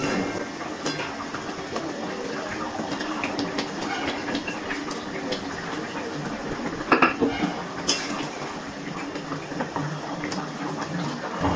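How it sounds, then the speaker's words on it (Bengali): Banana flower fritters drop into a pot of simmering potato curry, with clinks and scrapes of a utensil against the pot and a denser clatter partway through, over a steady background hiss. "এবার আমি এর মধ্যে দিয়ে দিচ্ছি ভেজে রাখা ধোকাগুলো।"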